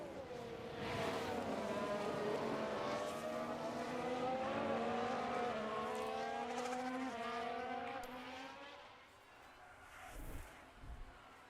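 Formula 1 race cars lapping in F1 Manager 22: a loud, high engine whine rising and falling through gear changes as cars pass close, fading near the end before brief bumps.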